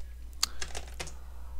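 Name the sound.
typing on a computer keyboard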